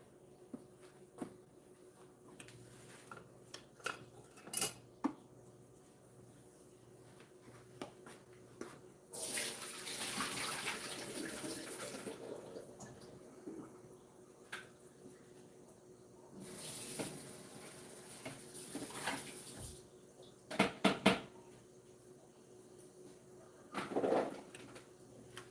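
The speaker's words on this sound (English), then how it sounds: "I'm going to drain my potatoes now" Boiled potatoes drain into a kitchen sink: two separate rushes of water, each a few seconds long, splash loudly, with quieter household background and a few faint knocks between them.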